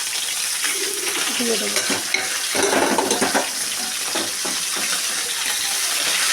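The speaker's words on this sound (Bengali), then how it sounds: "মাছটা ভাজা হতে থাকে" Pieces of bhola fish frying in hot oil in a wok, with a steady close sizzle and bursts of spatter as the fish goes in; a few quiet words are spoken over it.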